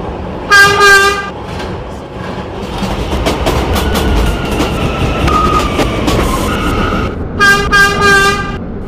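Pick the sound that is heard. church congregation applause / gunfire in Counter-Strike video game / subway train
subway train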